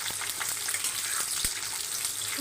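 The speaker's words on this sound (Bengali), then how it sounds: "এবার কুলগুলোকে নেড়ে নেব" Washed and dried jujube berries are stirred in a hot pan for pickle, giving a steady close sizzle with a sharp utensil scrape partway through.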